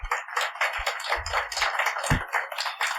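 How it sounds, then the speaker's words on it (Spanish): Applause from a church congregation during a sermon, a short burst of scattered clapping with a few sharper individual claps, fairly close and without talk. "Dale un aplauso a Jesús."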